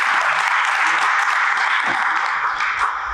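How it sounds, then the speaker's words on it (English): An audience applauds steadily throughout, a dense, even wash of many hands clapping close by with no pauses. "Give him a round of applause."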